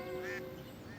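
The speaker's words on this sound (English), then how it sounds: "The very place to spend the night, quacked Mr. Mallard" A single brief, faint quack from a mallard duck, heard during the narration of a children's story over a soft background hiss.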